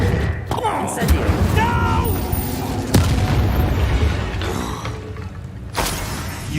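Casting the Incendio fire spell in the Hogwarts Legacy video game gives a loud, booming burst of fiery impacts over rumbling combat noise, with voices talking through the action.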